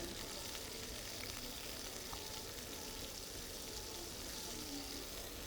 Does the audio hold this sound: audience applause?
no